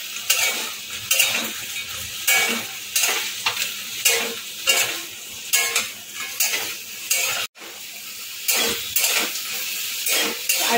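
Fried chicken pieces are stirred and tossed in a pan of bubbling honey sauce, giving a steady close run of scraping spoon strokes over a constant sizzle, with one brief pause near the end.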